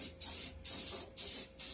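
Four short bursts of spray paint laid on as light coats over a Mustang GT door, each hiss lasting about a third of a second with brief gaps between, close and fairly quiet.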